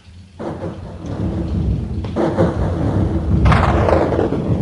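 Loud rolling thunder during a night storm with rain pouring down. The rumble swells in several waves over the steady hiss of heavy rainfall, with no voices.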